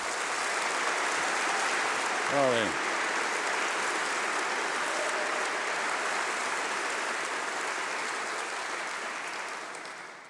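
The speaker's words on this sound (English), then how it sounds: "Let's give them a huge round of applause." An audience at a summer university graduation congregation gives doctoral graduates sustained applause, a dense, even wash of clapping that fades slightly at the end. A single brief spoken word breaks in early on.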